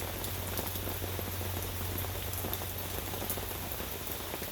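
Continuous rainfall pattering on a surface nearby, a dense even wash of drops over a low steady hum, with no speech.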